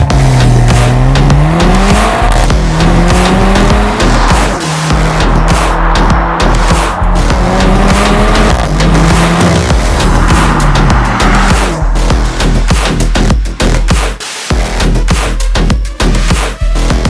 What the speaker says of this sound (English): 2024 Mercedes-Benz GLC 43